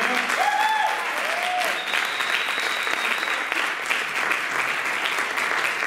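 A church congregation breaks into steady, sustained applause to acclaim the Lord, a dense, loud wash of clapping that fills the room, with brief sung or called-out voices rising above it near the start.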